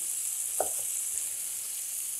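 Pork loin sears in a hot pan, giving a steady, bright frying sizzle with a brief soft clatter early on, continuous and close with no voices.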